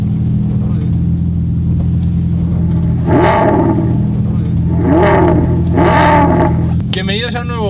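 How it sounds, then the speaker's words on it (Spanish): A Volkswagen Golf GTI on a race circuit gives a steady loud engine drone and then revs up in three rising bursts, heard from inside the car. "Tenemos la posibilidad de dar una vuelta al circuito en la Porsche Parade con un GTI, con un Volkswagen Golf GTI"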